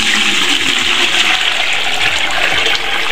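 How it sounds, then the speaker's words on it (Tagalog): A dissolved matcha mixture for maja, about ten cups, is poured into a saucepan, giving a loud, steady rushing splash of liquid that runs continuously throughout. "Atin pong ibubuhos sa ating kasirola."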